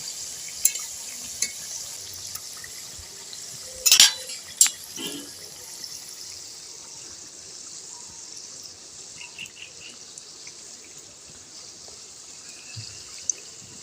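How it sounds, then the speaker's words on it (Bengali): Jhopajhop pithe dumplings frying in hot oil while being turned, giving a steady hissing sizzle throughout with a few brief louder spatters and clinks near the start. "এবার আমি উল্টে পাল্টে লাল লাল করে ভেজে নেব"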